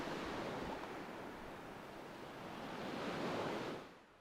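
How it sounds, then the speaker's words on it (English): Calm waves lapping on the Lake Michigan shore at night under light wind, a steady broad wash of surf with gentle swells and no voices. "The waves are lapping"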